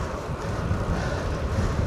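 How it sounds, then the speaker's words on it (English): Steady, heavy wind roar buffeting the microphone on the Lancashire coast between Lytham and Blackpool, a constant low rumble with no pauses. "It's proper windy."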